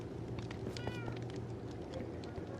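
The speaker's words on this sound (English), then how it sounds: "More cats." Cat meowing in the video game Minecraft: a short meow rises over a steady droning game background, with a few faint clicks and no talking.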